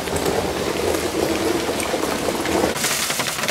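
Steady rain falls on a roofed electric vehicle heading toward Mont Blanc, a dense close hiss of drops that stays loud throughout and brightens toward the end, with no voices.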